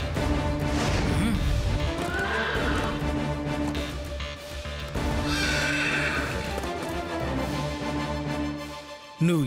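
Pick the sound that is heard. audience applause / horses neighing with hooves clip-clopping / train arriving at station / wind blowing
horses neighing with hooves clip-clopping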